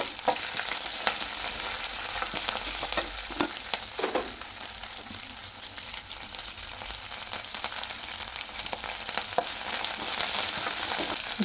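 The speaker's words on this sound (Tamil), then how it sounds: "கடுகு பொரிஞ்சதும் கடலைப்பருப்பு சேர்த்துக்கலாம்." Mustard seeds splutter and chana dal fries in hot oil for a potato masala, a continuous close sizzle scattered with quick crackling pops and a few stirring scrapes.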